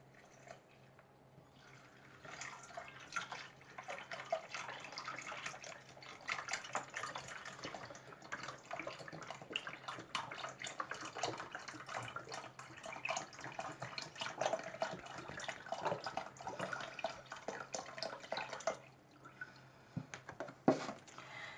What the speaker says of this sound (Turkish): Sütümü döküyorum.